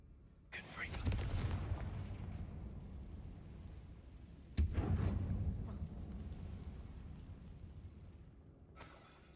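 Two loud blasting-spell explosions from a Hogwarts wizarding video game, each a sharp bang followed by a long rumbling roar, the second about four seconds after the first, with a brief crack at the very end.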